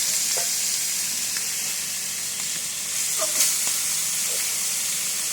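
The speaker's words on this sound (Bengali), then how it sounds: "ফ্রাই করে দিচ্ছি স্পেশাল" Fish frying in oil makes a steady, close sizzle with a soft hiss, broken by occasional stirring scrapes and small pops, with no talking over it.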